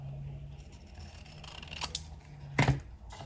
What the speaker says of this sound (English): Sometimes it's better to cut with the big scissors.